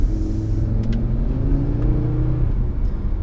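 A 2018 Audi RS3 fitted with STM tuned mid-pipes revs hard on a pull. Its five-cylinder exhaust drones loud and steady, with harmonics climbing gradually and then easing off near the end.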